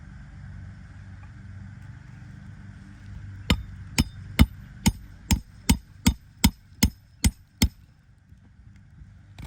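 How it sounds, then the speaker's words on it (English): Eleven sharp, evenly spaced strikes of a roofing hammer driving nails ring out over a low engine rumble in the background. "You can see how the nail is not driven all the way in, so he has to drive it again with the hammer."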